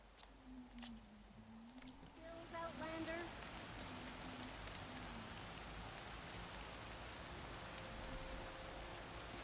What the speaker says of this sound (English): Right now it's raining like crazy.